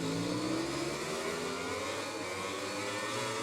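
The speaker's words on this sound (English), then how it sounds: "So here's Stone revving up then." Motorbike engine revving on the grid at the start of a MotoGP 20 race, a loud, sustained whirring rev that rises and shifts in pitch with no talk over it.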